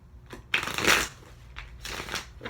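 Tarot cards are riffled and shuffled in a few quick bursts, crisp and close, with short pauses between the rustling passes.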